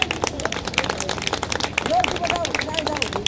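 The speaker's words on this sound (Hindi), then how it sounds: "तालियां बजा करके जरूर इनका अभिनंदन स्वीकार करें आप लोग" Audience at a BJP political rally in Narela claps hands in welcome, with steady, dense claps running throughout amid crowd murmur and background voices.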